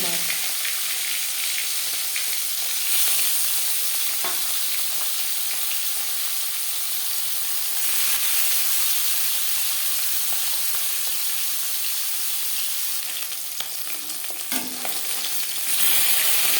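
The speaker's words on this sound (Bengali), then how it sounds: "তিন চামচ রিফাইন্ড অয়েল গরম করে নিয়েছি এবার দিয়ে দেবো ম্যারিনেট করে রাখা" Marinated rohu fish pieces sizzle and fry in hot refined oil in a pan, a steady loud crackling hiss throughout with occasional stirring sounds.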